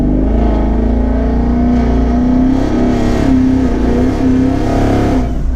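A twin-turbo 2019 Mustang GT accelerating hard with its tires spinning, a loud, steady engine roar and rising whine held for several seconds, with no talk over it.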